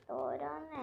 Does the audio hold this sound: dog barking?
yes